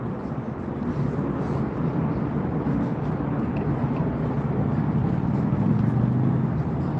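Steady, broad wash of city traffic rising from the streets below the Eiffel Tower replica on the Las Vegas Strip, heard from high up as a continuous distant roar with no distinct events.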